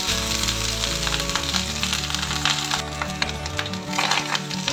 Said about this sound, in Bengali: সেগুলো অল্প অল্প ফাটছে, তার মানে আমার ফোড়নটা হয়ে গেছে।